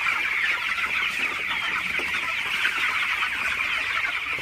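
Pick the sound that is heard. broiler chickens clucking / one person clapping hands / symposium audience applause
broiler chickens clucking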